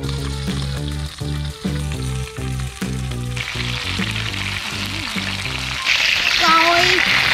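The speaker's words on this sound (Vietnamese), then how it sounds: "Rồi, chiên kiểu gì kỳ quá." Food sizzles and fries in a pan at a campsite cookout, a steady crackling hiss that grows louder near the end, while rhythmic music plays over it.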